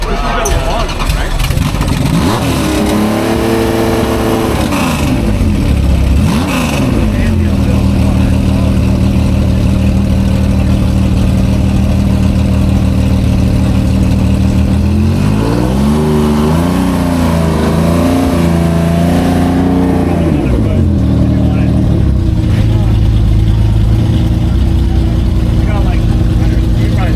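Toyota Supra race car engine running loud and close, revving up and down in repeated swells, with a person talking over it.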